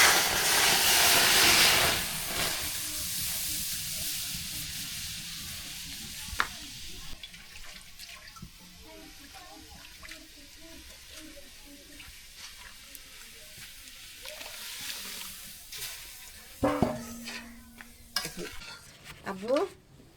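Spinach frying and being stirred in a wok on a village stove, a steady sizzling hiss with scraping stirs, loud at first then softer, with a few clanks of the pan near the end.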